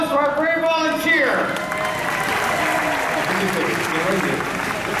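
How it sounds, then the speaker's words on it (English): A brief voice gives way to a crowd's steady, loud applause for a volunteer at the Indiana Jones show at Hollywood Studios, continuing evenly to the end. "How about a round of applause for our brave volunteer?"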